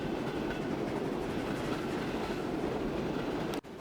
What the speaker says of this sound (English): It's just because this train is probably at its maximum speed